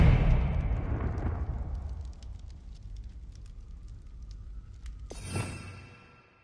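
Confringo blasting spell in a Harry Potter video game, a loud fiery burst that rumbles and decays over a couple of seconds, followed by faint crackling and a second sharp whooshing blast near the end.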